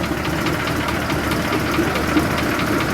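A Transit Liner bus engine in need of repairs is held slightly above idle, giving a loud, steady, close rumble with a knocking texture throughout.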